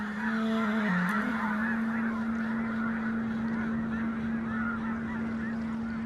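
A large flock of red-breasted geese honks together in flight in a dense, continuous chorus, with calls overlapping steadily throughout.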